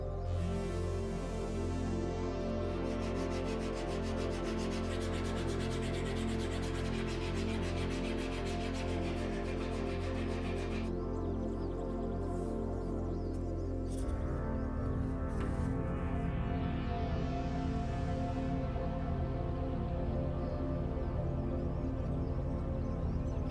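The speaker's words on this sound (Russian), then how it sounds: "Напильником дошлифовываем поверхность." A hand file smooths the surface of a handmade prop blade with continuous close rubbing and scraping strokes that shift in texture partway through, with no speech.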